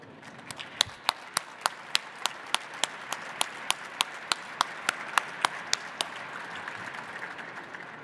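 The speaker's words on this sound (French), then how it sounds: "Je vous propose de les applaudir." Audience at an interministerial workshop on fire-safety regulation gives a short round of applause for firefighters: a few evenly spaced, sharp claps close by, fading out after about six seconds into room tone.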